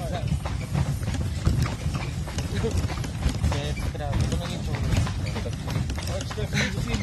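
Horse hooves clip-clop steadily while pulling a carriage near the source of the Bosna, a continuous rhythmic clatter close by, with people talking over it throughout.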